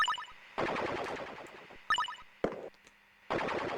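In the Weird Dreams video game, enemy kill effects burst out as short rapid crackling bursts, several separate blasts with brief gaps between them and no talk.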